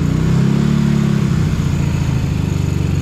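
Yamaha Mio i 160 motorcycle engine revving up close, a loud steady mid-pitched drone that swells early and then settles slightly, heard alone without talk.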